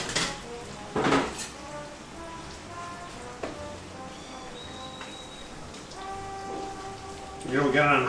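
Chicken tenders fry in hot oil over high heat, a steady crackling, rain-like sizzle with a few louder clatters and bursts, and a voice speaking over it now and then.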